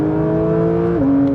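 Porsche 992 GT3 engine held at high revs, a loud, close, steady tonal scream that drops slightly in pitch near the end, no talk.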